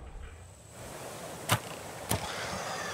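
Two sharp arrow impacts strike a warthog in the video game Raft, the first louder, the second about half a second later, over a steady background of ambient game noise.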